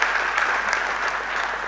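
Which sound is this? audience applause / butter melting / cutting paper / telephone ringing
audience applause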